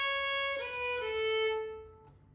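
A single violin plays one longer note followed by two quicker notes, a clear bowed tone at close range that fades out at the end, with no talking.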